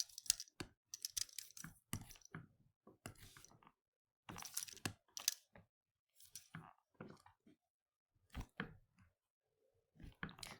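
Buttons tapped on a graphing calculator give quiet, irregular clicks and short clusters of taps, close up and faint, separated by brief silences with no talking.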